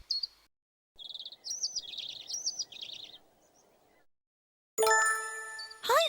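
Bright, cheerful bird chirps in short tinkling bursts over a soft rustling background, followed by a separate chiming jingle near the end, as in a cartoon or game.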